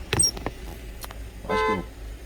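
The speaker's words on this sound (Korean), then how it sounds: "빵빵 어디지?" A car horn honks once in a short steady blast from outside a parked truck cab, moderately loud over a low idling rumble and small handling noises.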